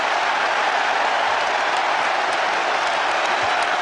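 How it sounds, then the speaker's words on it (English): Twickenham stadium crowd at the 1999 Rugby World Cup semi-final, France against New Zealand, roars and applauds steadily after a French try, a dense, loud, continuous wall of cheering. "listen to this Twickenham crowd. They're loving it."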